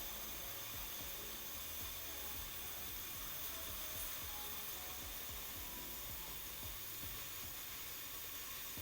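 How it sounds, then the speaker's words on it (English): A pressure cooker hisses steadily as steam escapes while food cooks, a constant broadband hiss with faint low rattling underneath and no talking. "Because sometimes you can't see the steam. You can just hear it."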